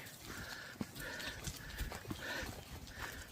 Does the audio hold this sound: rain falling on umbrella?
no